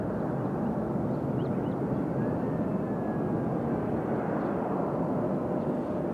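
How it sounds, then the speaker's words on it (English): An American 737 airliner departing Nashville airport, a steady distant roar of jet engines with a faint rising whine, continuous and without talk. "As we got another American 737 headed out here."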